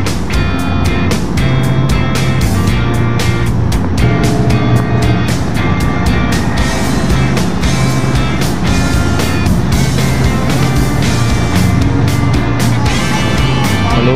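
Ship MV Virgen de Peñafrancia XI underway during a race, a loud, close, continuous engine roar with heavy rumbling and rushing water or wind noise, steady from start to finish, without talking.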